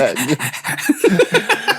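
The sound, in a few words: person imitating a dog panting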